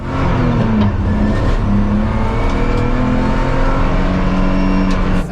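An endurance race car with a hastily repaired exhaust, whose hangers had broken and dropped it to the ground, accelerates hard back onto the track, its loud engine climbing through rising gear pulls, close and alone.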